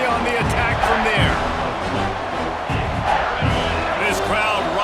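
A football stadium crowd rises into a loud, sustained roar of cheering, broad and continuous from start to finish.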